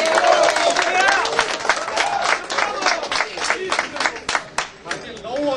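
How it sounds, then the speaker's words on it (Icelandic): Crowd applauding at a Halo 3 midnight launch event for Xbox 360 in Iceland, a steady wash of many hands clapping, close and loud, with cheering voices and crowd chatter mixed in throughout. "Við séum bara að gefa Péti klapp fyrir þetta."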